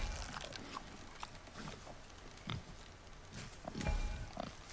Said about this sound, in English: Wild boar's hide is thick.